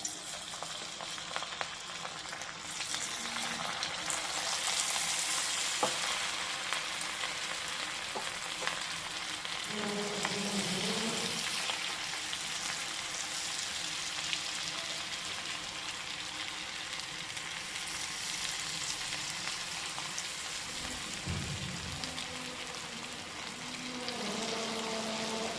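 Battered cauliflower deep frying in hot oil, a steady broad sizzle and bubbling that runs throughout at moderate loudness, with a few brief stirring scrapes and no talking.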